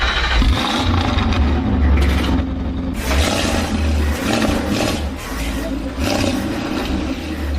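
A Jaguar C-X75 concept car's engine roars in loud, surging bursts with deep rumbling swells and sharper revving peaks, close and dominant throughout.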